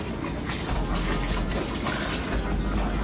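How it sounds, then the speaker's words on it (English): Beer wort for a Munich-style dunkel lager splashes into a fermenter for aeration, a steady, loud rushing pour that continues without a break for several seconds. "right now I'm aerating the wort via splashing it into the fermenter"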